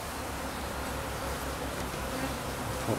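Honey bees building comb in a hive hum in a dense, steady buzz that fills the whole clip, close and unbroken, with no voices over it.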